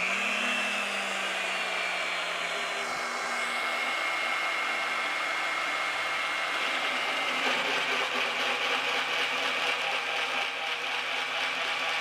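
A Vevor 1400W magnetic drill runs at a steady high whine, loud and continuous throughout, with a slight shift in tone partway as it works.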